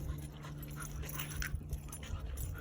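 A dog pants steadily close by with faint whimpering through the short stretch, over a low background hum and no talk.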